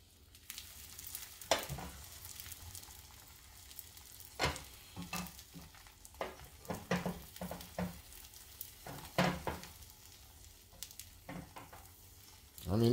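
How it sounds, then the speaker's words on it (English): Blended egg cooks in a hot pan with a soft, steady sizzle, while a utensil scrapes and taps against the pan at irregular intervals. Close and quiet. "I just want to see how that, you know, the egg hardens up and cooks."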